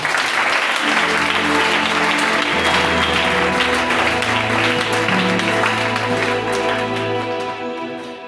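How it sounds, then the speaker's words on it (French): A church congregation claps loudly and continuously in praise of the Lord, a dense, full crowd applause that fades slightly at the end. "Alors acclamons les Seigneurs aussi."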